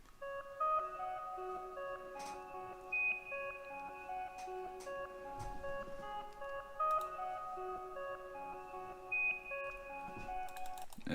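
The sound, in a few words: Omnisphere 2 Organic Rhodes preset played reversed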